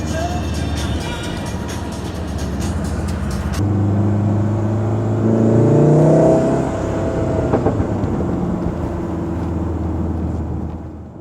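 A car driving on UK roads toward York, with steady engine drone and tyre rumble from inside the cabin that swells and settles as the car accelerates, alone without talk.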